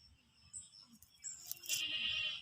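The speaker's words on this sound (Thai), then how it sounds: "เดี๋ยวไปจัดการแพะก่อน ดื้อใหญ่แล้ว" A goat on a farm gives a few faint bleats, with a louder wavering bleat near the end against quiet background noise.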